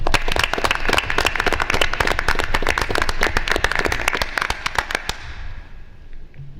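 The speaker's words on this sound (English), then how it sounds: "Can I get a big round of applause" A board of education meeting audience breaks into a dense, loud burst of applause that carries on steadily for about five seconds, then stops abruptly with a short fading room tail.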